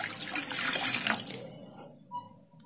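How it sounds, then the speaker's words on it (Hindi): Water runs from a tap into a metal pot while fennel tea is being prepared, a close, loud splashing stream that gradually fades away after about a second and a half, with a faint clink near the end. "पहले हमें एक गिलास पानी एक बर्तन में ले लेना है"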